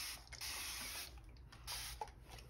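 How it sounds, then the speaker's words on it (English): Several short hissing bursts from a spray bottle, close and fairly loud, with brief pauses between squirts. "Let me spray these real quick so they're all wet."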